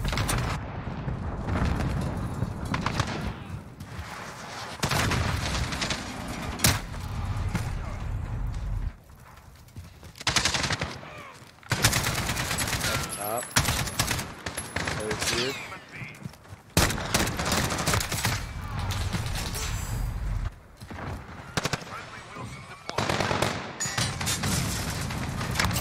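Video game gunfire with bursts of shots amid busy game sounds, including horse hooves clip-clopping and occasional whinnies, loud and continuous with dense action throughout.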